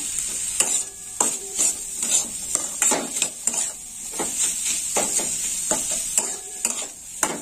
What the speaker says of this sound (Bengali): একটু ভালো করে নেড়ে চেড়ে নেবো।